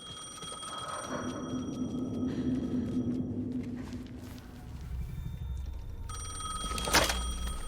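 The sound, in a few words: telephone ringing in the video game Alan Wake 2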